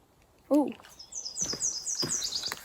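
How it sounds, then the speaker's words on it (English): A Nashville warbler sings beside a bog in the Adirondacks, a run of high, thin chirping notes under nearby rustles and other soft bird calls. "Nashville warbler right here."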